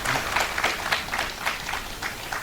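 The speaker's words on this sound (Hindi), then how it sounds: "आप लोग ऐसे ही ताली बजाइए।" Steady, dense applause from a seated audience at a lecture on Vedic science, many hands clapping together in a continuous wash with rhythmic pulses, moderately loud and sustained throughout.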